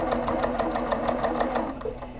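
A sewing machine stitches a small quilt-as-you-go coaster, a steady fast mechanical whir with an even needle rhythm, close and alone.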